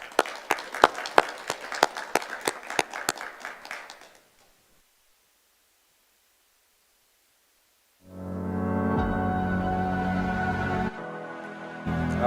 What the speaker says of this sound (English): I would like now to invite our guest to give a warm hand of applause to our panel.